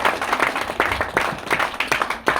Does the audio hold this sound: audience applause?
yes